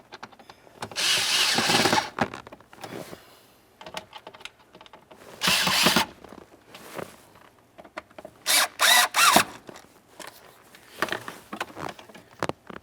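A power drill snugging bolts on the blower motor of a 1999–2003 Toyota Solara, whirring in several short loud bursts separated by pauses and small clicks.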